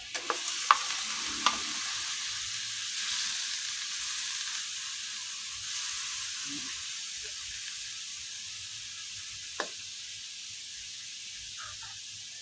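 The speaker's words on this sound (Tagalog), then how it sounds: "Lutuin natin yung karne guys. Luto tayong ginisang pinakbet." Meat sautéing in a pan for Filipino pinakbet makes a soft, even sizzle and hiss that fades slowly, with a few light clicks of a spatula near the start and once more later, no voices.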